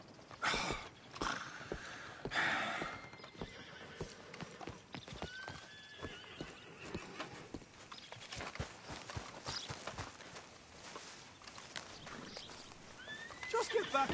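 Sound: horse hooves in the video game Red Dead Redemption II

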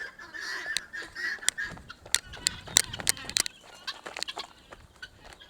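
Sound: chickens clucking

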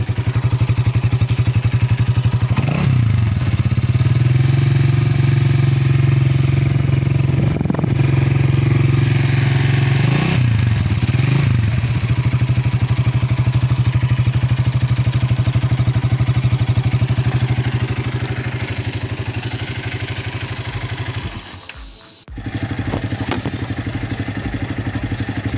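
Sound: IGM 170 cafe racer motorcycle engine running

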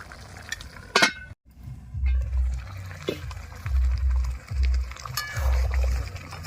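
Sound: covering the cooking pot with a lid

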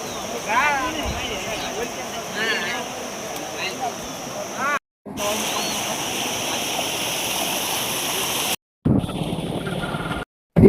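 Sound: Falku river flowing full after 24 hours of heavy rain

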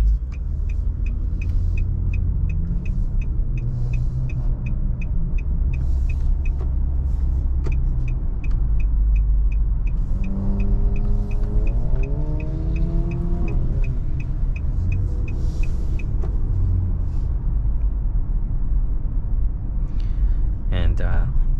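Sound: 2022 Nissan Murano 3.5 V6 engine while driving

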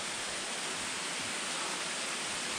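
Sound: waterfall flowing on North Kaibab Trail

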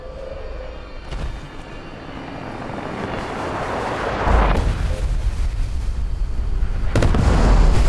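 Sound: nuclear explosion in a video game

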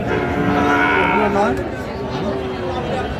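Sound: cow mooing

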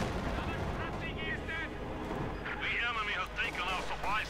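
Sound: gunfire in video game Company of Heroes 2

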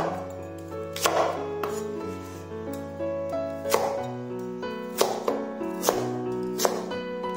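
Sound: knife dicing lotus root on a cutting board

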